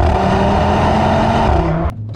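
An Audi RS3 Stage 2 with a Milltek exhaust pulls hard at full throttle, its loud, close engine roar holding steady before cutting off abruptly near the end.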